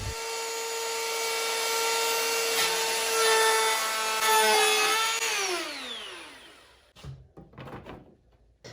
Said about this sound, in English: I then routed out a groove for the plexiglass to sit in